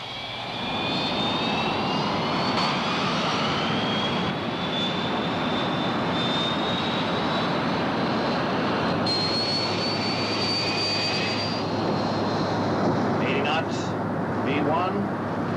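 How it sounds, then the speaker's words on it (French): A jet airliner powers up for its takeoff roll on a runway in a disaster film. Loud, sustained engine roar carries rising turbine whines that climb in pitch as thrust builds, with some rattle near the end. "Vol 34, vous avez l'autorisation de décoller, à vous? Vol 34, on roule."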